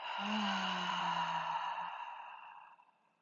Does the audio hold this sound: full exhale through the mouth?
yes